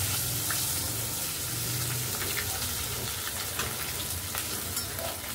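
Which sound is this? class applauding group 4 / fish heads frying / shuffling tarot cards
fish heads frying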